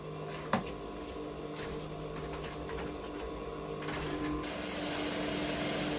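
Sewing machine sewing fabric down on a butterfly boubou garment, a continuous mechanical whir with a sharp click near the start, steady and close, growing slightly louder toward the end.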